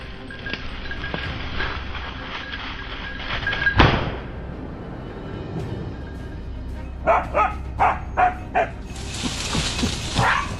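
Hunting dogs bay at a wild boar they have trapped, their barks rising to a rapid run of five or six sharp yaps near the end. Before that comes rough, noisy outdoor movement and a single loud bang midway.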